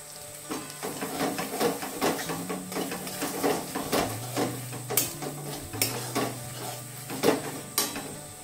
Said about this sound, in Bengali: আর জিরে গুঁড়ো দিয়ে মশলাটাকে ভালো করে কষিয়ে নেব।